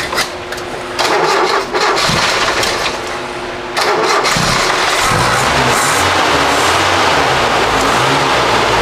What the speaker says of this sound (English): we started it, we'll try to do that real quick.